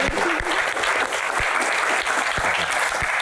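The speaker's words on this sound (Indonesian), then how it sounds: "Tepuk tangan untuk Pak Tahir sekali lagi" Audience applause for a guest at an Indonesian Q&A stage event, steady dense clapping from a crowd, loud and continuous throughout.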